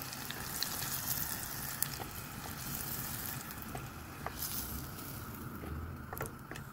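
Chicken fillet frying in a pan, a quiet, steady sizzle and crackle with occasional small pops throughout.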